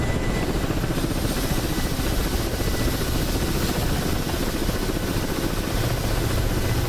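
An attack helicopter in a video game flies off with a loud, steady rotor thump and engine drone that hold constant throughout, with no talking.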